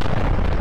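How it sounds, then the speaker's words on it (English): Cannons firing aboard a warship in the naval combat game From the Depths: a dense, continuous low rumble of blasts packed into under a second, loud and heavy with no gaps between shots. "Fire the cannons!"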